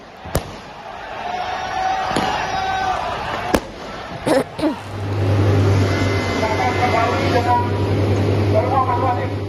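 Sharp bangs and crackling bursts of fireworks thrown by protesters at night outside Polda Metro Jaya police headquarters pop through crowd noise, followed by a steady low engine hum and more scattered pops.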